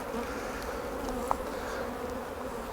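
Honey bees drone softly and continuously around a beehive super during a UK honey check, a faint close buzzing hum with one brief tap partway through.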